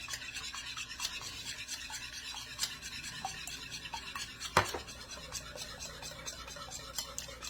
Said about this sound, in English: now I'm gonna put my last egg in there, a whole egg. Okay, we're gonna scramble that together.